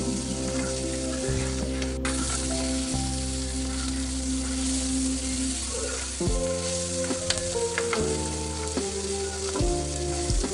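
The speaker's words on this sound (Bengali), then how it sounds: "যে ম্যাগি মশলাটা থাকে আমি সেটা দিয়ে দিচ্ছি দিয়ে আবারও নেড়ে চেড়ে নিচ্ছি" Noodles with Maggi masala and boiled greens and potato sizzling loudly in a hot pan while they are stirred, a continuous bright fry broken by scraping stirs, with steady tonal hum beneath.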